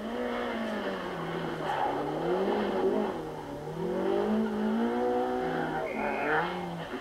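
BMW rally car at the 1990 British Rally, its engine droning and rising and falling in pitch as it drives at speed, loud and continuous, with no talk.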